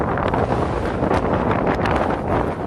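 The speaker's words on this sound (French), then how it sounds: "il y a un vent incroyable" Strong wind buffets loudly and continuously on Sgurr na Stri, with gusty roaring bursts close by and no voices.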